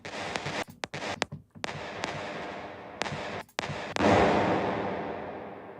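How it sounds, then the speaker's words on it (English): Several sharp, loud bangs with short gaps, followed by a heavier blast that rings out and decays slowly, like staged gunfire effects. "It's a gunshot."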